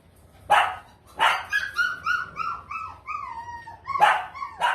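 Small dogs, including teacup Pomeranians, at a busy pet market give several sharp, high yips and barks close by, mixed with whiny whimpers in between, with no speech.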